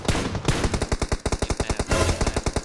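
Enemy gunfire in the mobile game PUBG Mobile, a loud, close burst of evenly spaced automatic shots firing in rapid succession with no talking.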